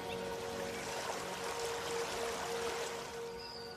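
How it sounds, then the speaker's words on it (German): Gentle river water splashing and trickling along the Pegnitz, a steady broadband wash that continues alone without any talk, fairly quiet and close throughout. "Ein Plätschern, das verzaubert."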